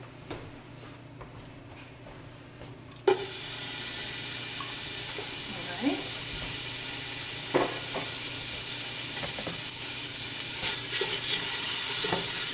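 Bacon hits a pot over medium heat and begins sautéing, a sudden loud hiss that settles into a steady, crackling sizzle with occasional stirring scrapes.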